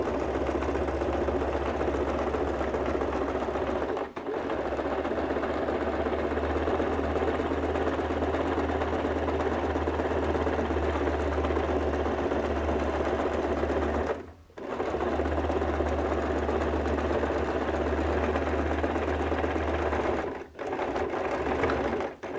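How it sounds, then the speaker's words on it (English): A sewing machine back-stitches around a pocket patch on recycled denim for a bag, running continuously and loudly up close, with a low motor hum and three brief dips where it pauses. "I'm going to start with the back stitch and go all the way around doing an 8 stitch."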